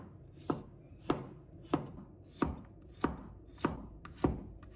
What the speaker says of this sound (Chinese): 先把它切片，